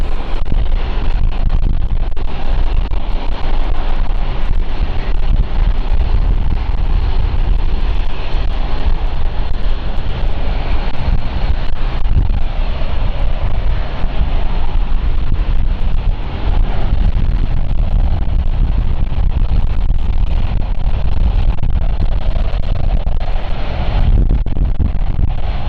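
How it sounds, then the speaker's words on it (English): A passenger aircraft inbound from Rotterdam roars steadily at London City Airport, a loud, continuous broadband rumble mixed with heavy wind buffeting on the microphone throughout. "So our next inbound flight is going to be the Rotterdam flight."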